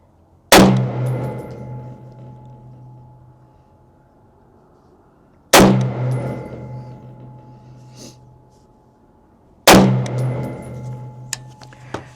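Three loud, close rifle shots from a CMMG Dissent MK3 in .308, each a sharp crack with a long ringing decay, spaced about four to five seconds apart.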